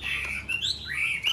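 A hwamei, a Chinese songbird, sings close by with a few clear, high, sliding whistled chirps in quick succession, heard alone with no talk.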